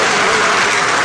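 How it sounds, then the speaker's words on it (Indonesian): Congregation clapping their hands during a church sermon, a dense, steady wash of applause throughout the short moment, with no clear voices standing out. "Tepuk tangan dong, ambil bagian ya."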